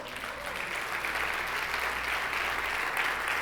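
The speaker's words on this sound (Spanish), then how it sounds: "¿Cuántos pueden dar un fuerte aplauso?" Church congregation breaking into strong, sustained applause, a dense continuous wash of many hands with a low hum beneath, steady and even throughout.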